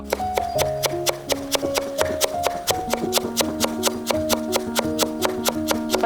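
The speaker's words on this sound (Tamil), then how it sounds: "கோஸ் நல்லா பொடியாக கட் பண்ணணும் ரொம்ப பொடியாக கட் பண்ணணும்" Cabbage being chopped finely with a knife on a board, a rapid, steady run of sharp close taps over about six seconds, with sustained music-like tones underneath.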